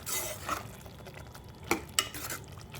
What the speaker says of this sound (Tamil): அடிக்கடி தர ஓப்பன் பண்ணி இந்த மாதிரி கிண்டி விட்டுக்காங்க